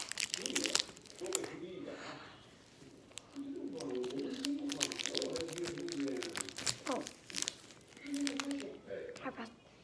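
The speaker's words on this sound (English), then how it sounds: "You guys can also hear this little crunch noise." Crisp crunching and crinkling snack sounds made up close in a quiet room, sharp irregular bursts spread across the clip, mixed with soft mouth noises and quiet talk.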